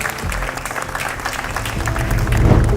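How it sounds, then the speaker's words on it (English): Audience applause at a blockchain industry event, dense continuous clapping with low rumbling tones and music-like hum underneath, growing slightly louder toward the end. "let's give a round of applause"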